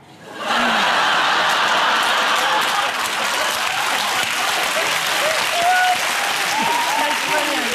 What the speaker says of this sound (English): Why are we clapping for that?